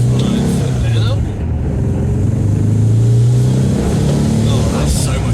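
A VW Type 1 1600 engine fitted with Weber ICT carburettors pulls a car through a loud, close acceleration on a sunny test drive, with the pitch rising and falling through the gears under a voice.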